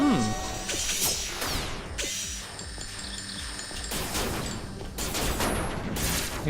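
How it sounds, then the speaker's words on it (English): A buzzsaw attack in the Copy Kitty video game: grinding, ratcheting mechanical whirring with rapid bursts and sharp crashing hits, loud and dense throughout, with someone talking over it. "Buzzsaw."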